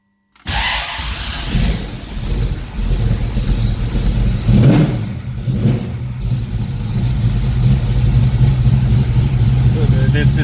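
A 1969 Mustang with a new 410 cubic inch engine cranks and fires after a brief silence, then idles roughly and revs up repeatedly, loud and close.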